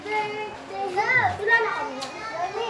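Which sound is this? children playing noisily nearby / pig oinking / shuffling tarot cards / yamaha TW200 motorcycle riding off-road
children playing noisily nearby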